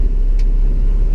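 A car with a 5.0 HO motor pulls hard on a back road, its engine a steady close rumble with no clear gear change in the brief moment.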